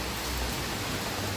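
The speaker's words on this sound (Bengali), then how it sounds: "বৃষ্টি আর থামছেই না" Steady, continuous rainfall pours down outdoors near water where fishing nets are set, a dense even wash of drops close by with no talking.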